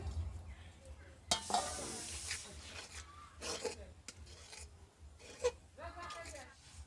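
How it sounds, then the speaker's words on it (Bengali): Grated coconut mixture is stirred in a pan for a village-style winter pitha, with repeated rough scraping strokes over a low background hum and a faint voice in the background. "এখন নাড়বো তারপরে বারে বারে নাড়তেছি"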